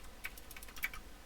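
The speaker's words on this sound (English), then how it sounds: "Portuguese keyboard." A brief burst of light keystrokes on a Portuguese computer keyboard, a handful of soft clicks close by with no speech.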